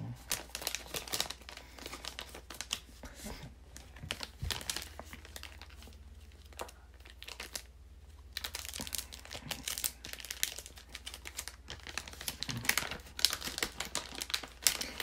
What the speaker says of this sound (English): we will really see these cards coming out of the packs